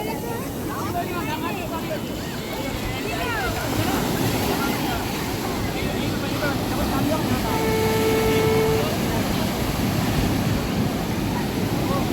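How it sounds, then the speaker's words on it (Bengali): Strong full-moon sea waves roar and break continuously, with wind buffeting the microphone and faint voices in the background. "পূর্ণিমার কারণে ঢেউটা, এই যে প্রচণ্ড ঢেউ আছে"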